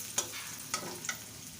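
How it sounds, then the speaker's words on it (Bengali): Chopped onions fry in a pan for a chicken gizzard and liver curry, a steady close sizzle with three brief scraping stirs of a utensil, no voice heard. "পেঁয়াজ কুচি দিয়ে ব্রাউন কালার করে বেজে নেব"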